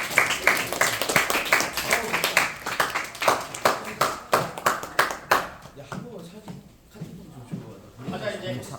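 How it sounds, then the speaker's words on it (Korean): Audience clapping at the close of a seminar by successful former students, a burst of near, sharp claps over the first few seconds that thins out and gives way to quieter room noise and voices. "박수 한번 더."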